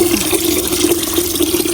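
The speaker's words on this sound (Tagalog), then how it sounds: "nag-iipon lang po ako ng tubig dito sa timba" Water running steadily into a bucket, collected for watering garden plants, a loud close continuous gushing and splashing with a rising filling tone and no speech.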